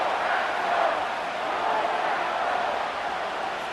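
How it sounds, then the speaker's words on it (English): Stadium crowd noise from a Madden 25 simulation of a Lions vs Packers game on PS5: a dense, continuous roar of cheering fans, loud and sustained with slight swells, with no clear voices standing out. "This crowd into it now as we get to 3rd down."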